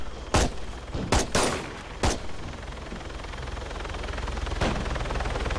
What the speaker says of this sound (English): Yeah, I hear gunshots from one.